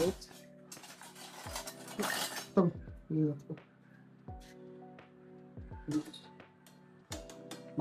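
Small spoons and dishes are handled in a home kitchen during Maggi noodle cooking, with scattered metallic clinks, scrapes and taps at close range, and voices talk quietly between the clatter.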